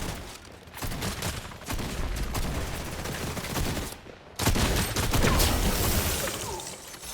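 Rapid bursts of gunfire in a Fortnite zero build match crackle steadily, with a brief lull around the middle before the shooting resumes loud and dense, packed with overlapping shots.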